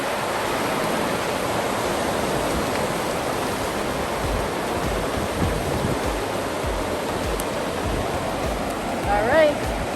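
Broadband surf at Macao Beach in Punta Cana rushes steadily and loudly for the full length, a constant roar of breaking waves with a brief swell near the end.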